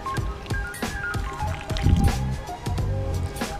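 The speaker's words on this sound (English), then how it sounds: "I'm just going to fill each individual hole with a bit of worm rum, and then I'll follow it up with some water." Liquid worm-based organic fertilizer is poured into individual planting holes in a garden patch: a series of close, wet splashes, drips and squishy gurgles in irregular bursts, with no talking.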